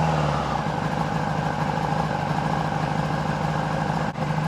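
A rough-running old motorbike engine, misfiring as if on three cylinders, idles close and steady with an uneven, lumpy throb that keeps going throughout.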